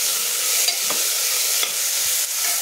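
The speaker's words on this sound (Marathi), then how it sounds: "छान परतून घ्यायचं।" Ginger, garlic and green chilli paste sautéing in hot oil, a loud continuous sizzle up close with faint stirring strokes underneath.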